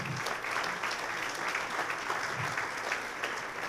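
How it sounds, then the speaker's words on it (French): A crowd applauds contractors at a lively party-style event, dense steady clapping from many hands filling the room without a pause, fairly distant and even throughout. "Alors, on les applaudit, les entrepreneurs"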